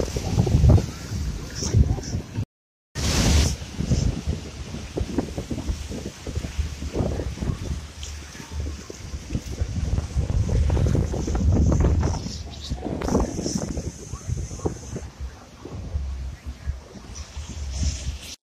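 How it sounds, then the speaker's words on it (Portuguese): Wind gusts buffet the microphone at a beach in Porto Seguro, Bahia, a steady low rumble that swells and fades throughout, with people talking over it. "Tá ventando um pouco ainda,"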